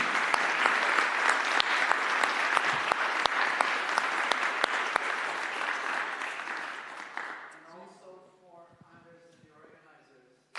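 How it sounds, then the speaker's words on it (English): Audience applause for conference lecturers at a live event, a dense, sustained clapping that runs for about seven seconds, then fades out as a voice begins speaking. "I would like to clap for the lecturers in the morning."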